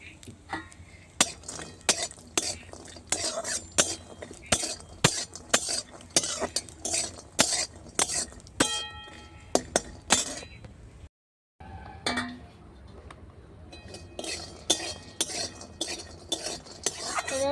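Lentil badi being fried and stirred in mustard oil in a wok over a clay stove, sharp metallic scrapes and clinks of a spatula in a steady rhythm over a faint sizzle, close, with a brief pause.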